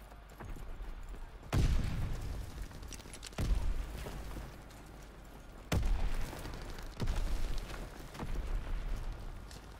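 Heavy gunfire bursts in the WWII shooter Call of Duty: WWII: about five loud, booming shots or short volleys at uneven intervals, each decaying into a rumbling tail over a steady background din, with no voices.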